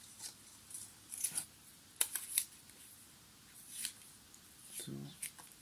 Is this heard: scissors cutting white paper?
yes